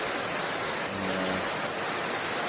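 Steady rain pours down outdoors during the monsoon, a dense continuous hiss close to the microphone with no pauses and no voices.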